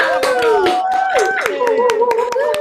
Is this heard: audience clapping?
yes